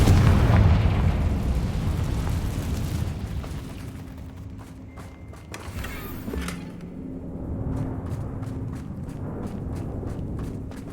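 A Confringo fire spell bursts in the video game Hogwarts Legacy: one deep, rumbling explosion that booms loudly and slowly fades, followed by scattered light impacts and footsteps.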